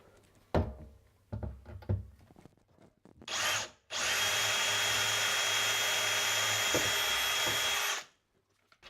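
Power drill spinning a 2.5mm bit into a laundry panel, starting with a short burst then running steadily for about four seconds before stopping, preceded by a few thunks and handling knocks.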